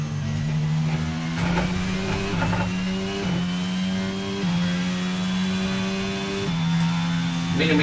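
A Formula One race car in the F1 22 video game, on a lap at Imola, accelerates hard: a loud, close engine whine climbs through several gear changes, each upshift dropping the pitch before it rises again, with no talk.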